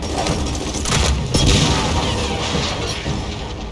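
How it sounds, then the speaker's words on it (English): A grenade blast in Gears of War 4 booms loud and close with a broad rumbling burst, then a long dense roar of gunfire and debris rolls on under the blast. "Throw a grenade on his place."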